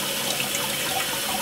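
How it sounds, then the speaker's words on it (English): Cold water runs into one side of a fly trap for a chicken coop, a steady close trickle of liquid filling the container, with no voices. "I just fill that side up there with a bit of cold water"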